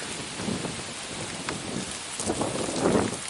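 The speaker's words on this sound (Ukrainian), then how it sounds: "У який вітер." Loud broadband roar of gusting wind buffeting the microphone, with rain-like hiss throughout and surges in intensity.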